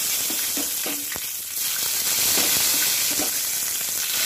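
Whole bay leaf, cinnamon and cardamom frying in hot oil left from earlier frying, a loud, continuous close sizzle with a few faint scrapes of stirring.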